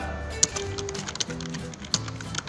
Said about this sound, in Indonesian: Kemudian baru kita mengetik seperti itu.